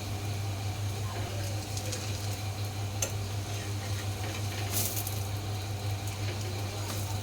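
Besan poli, a gram-flour flatbread, frying in oil in a pan over medium gas, giving a steady low sizzle with occasional light clinks and scrapes of a utensil, close up and without talk.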